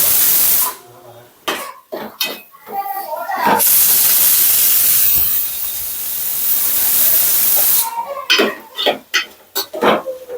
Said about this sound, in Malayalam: ആറ് വിസിൽ കേട്ടിരിക്കുകയാണ് അപ്പൊ നമ്മള് കുക്കർ ഗ്യാസ് സ്റ്റവ് ഓഫ് ചെയ്യണം